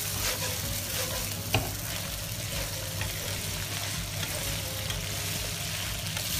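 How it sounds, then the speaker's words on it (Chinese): Spicy crayfish stir-fried with spices and chili sauce over high heat, a quiet continuous sizzle with soft stirring scrapes and one small clack from a utensil. "大火翻炒均匀。"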